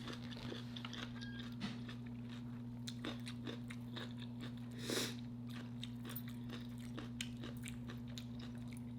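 Close, quiet crunching and biting of sheet pan tacos in low carb flour tortillas, with irregular chewing crackles over a steady low electrical hum.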